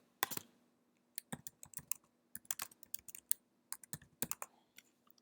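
Card details being typed on a computer keyboard: a quick, irregular run of close, crisp key clicks in short bursts with brief pauses, no talking.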